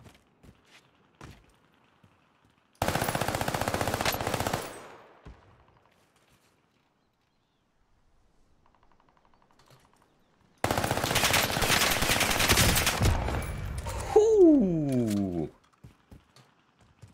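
An Armaguerra submachine gun in Call of Duty fires in two long, loud sustained bursts separated by a quiet gap, with scattered footsteps and game effects before, between, and after.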